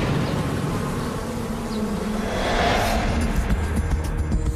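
A dense swarm of Africanized bees buzzes continuously and loudly, a steady droning hum that swells slightly midway and fills the whole stretch with no voices.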